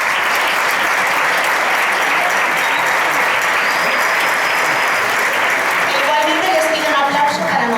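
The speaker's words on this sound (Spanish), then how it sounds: "Como no, también un aplauso para Vicente y César Rubio" Loud, dense audience applause fills a multicultural festival in Port de Sagunt, Valencia, continuing steadily throughout, with a voice starting to speak at the very end.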